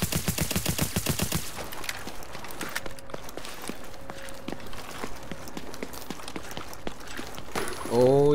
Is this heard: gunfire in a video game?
yes